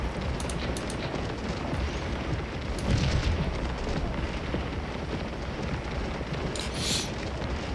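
Infantry volleys on a flank at Gettysburg in a Civil War strategy game, a dense continuous crackle of distant musket fire with occasional louder bursts, rumbling and unbroken throughout.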